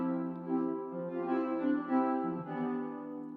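Serum synth keys on the 'Key Future Whirly' preset, run through an ambient medium-room reverb: smeared, overlapping sustained chords that blur together into a continuous wash, heard alone at moderate level without talk.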